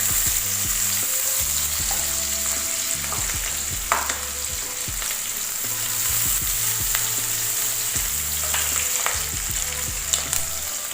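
Onions fry in hot butter for butter chicken, giving a close, even sizzle throughout with frequent scraping and clinking stirs against the pan.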